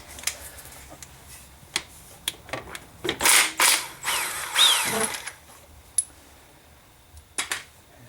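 Ratchet and metal tool clicks while removing the lower crankshaft pulley on a 2004 Honda Pilot 3.5 V6 during a timing belt job, with scattered sharp clicks and a few louder rattling bursts up close.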